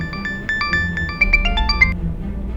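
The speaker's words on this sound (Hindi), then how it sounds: "घर से बार बार फोन आ रहा है" A phone ringtone plays a bright, beeping electronic melody in quick repeated bursts, loud and close, then stops abruptly after about two seconds.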